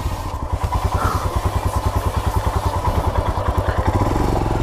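A Royal Enfield Himalayan BS6 touring motorcycle engine runs on town roads, a loud, close, rhythmic thumping pulse that stays steady and then shifts slightly near the end.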